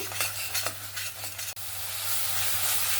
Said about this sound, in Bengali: মশলাটাকে ভালোভাবে আবারও 5 মিনিটের মতন কষিয়ে নেব